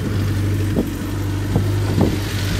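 A car engine turning over and running on a cold, snowy winter day, a steady close mid-pitched hum with a few brief rev bumps, with no talking over it.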